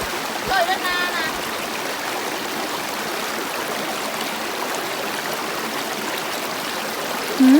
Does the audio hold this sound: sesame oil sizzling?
no